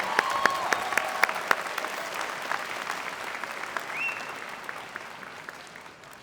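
Audience at a college commencement ceremony applauding a singer, steady moderate clapping from a large crowd that starts with a few sharp individual claps and holds evenly, slightly distant and fading toward the end.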